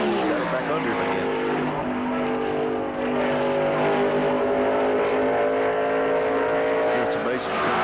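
A 1993 Chevrolet stock car roars at full speed around the track during qualifying for the Mello Yello 500, its loud engine note sustained and steady, with its pitch rising as it passes.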